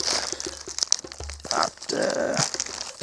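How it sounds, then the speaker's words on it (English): A thin plastic bag holding a watermelon dropped from a balcony splits and crinkles, with close crunching, tearing and rustling bursts over a few seconds. "Okay, the plastic bag is broken"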